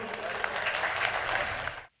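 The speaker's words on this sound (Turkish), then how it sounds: "arkadaşlara güçlü bir alkış rica ediyorum" Applause for athletes at a community association event, a steady wash of many hands clapping for under two seconds before cutting off abruptly.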